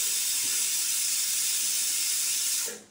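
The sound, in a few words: oil added to a hot pan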